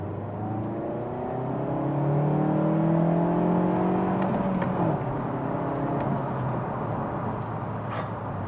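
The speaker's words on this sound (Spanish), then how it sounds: "Nos vamos a meter en autopista, vamos a revolucionar un poquito el coche y vamos a acelerarlo." Mazda CX-3 engine revs and accelerates on a highway, the note rising through gears in long climbing sweeps, loud and close from inside the car, with a gear change midway and steady road roar after.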